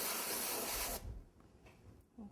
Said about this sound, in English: This is a freeze spray, chocolate freeze, and I can just quicken the process of the chocolate cooling.